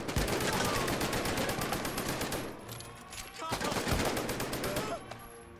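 Rapid, sustained gunfire shot from a window in the VR game Medal of Honor: Above and Beyond, with dense overlapping bursts that roar loudly and continuously, easing briefly before another volley.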